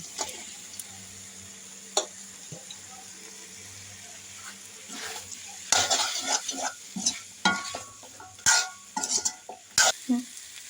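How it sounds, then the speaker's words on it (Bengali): Fried jackfruit goes into spices frying in a pan and is stirred vigorously, with quiet sizzling at first and then bursts of loud scraping, clattering utensil strokes and crackling, sporadic and close. "এই যে এখন আমি ভাজা কাঁঠালটা দিয়ে দিব।"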